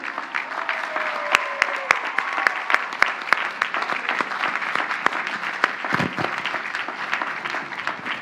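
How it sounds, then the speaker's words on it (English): Commencement audience applauding families at a Queens College graduation ceremony, a broad, steady wash of many hands clapping from a large crowd, with a few louder nearby claps standing out and brief murmured voices beneath. "give them a round of applause in gratitude"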